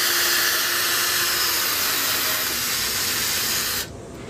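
A fine drill bit boring into an oak chair rung during a loose-rung repair, giving a steady, close, hissing whir that holds for nearly four seconds before cutting off abruptly.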